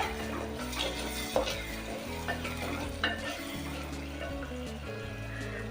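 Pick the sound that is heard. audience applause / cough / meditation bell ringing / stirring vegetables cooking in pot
stirring vegetables cooking in pot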